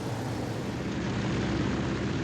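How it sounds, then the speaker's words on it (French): A Max Holste Broussard propeller plane cruising at about 80 knots gives a loud, steady engine and propeller drone that fills the whole stretch without a break. "Le Broussard file à 80 nœuds, environ 150 km/h."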